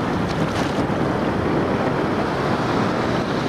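Ocean waves and wind at South Beach, Washington, a continuous, loud roar of surf with heavy wind buffeting the microphone, steady throughout with no voices.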